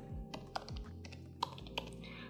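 Someone types a password on a laptop keyboard: a handful of quiet, uneven key taps with a couple of sharper clicks, close and otherwise silent.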